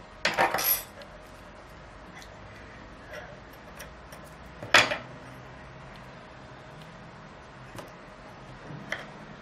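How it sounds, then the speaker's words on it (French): Scissors cut a small blue yarn during crochet work, with a couple of sharp close snips and light taps spaced out over a quiet room tone. "Donc ici, on va couper le fil."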